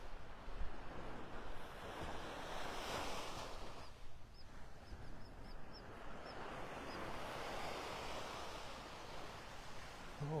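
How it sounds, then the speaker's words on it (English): Surf rolls onto a white sandy beach in North Naples, Florida as soft, continuous wave wash, with wind rumbling on the microphone. "Oh, it's white sandy beach."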